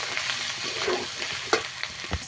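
Ginger, garlic and potatoes fry together in a pan, giving a continuous close-up sizzle with a few clatters of a spoon stirring.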